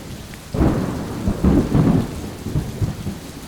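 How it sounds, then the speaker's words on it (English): Thunderstorm with pouring rain and strong wind: deep rolling thunder rumbles in after a quiet start and keeps surging over a steady wash of heavy rain, loud and close. "The rain was pouring down, and the wind was blowing stronger"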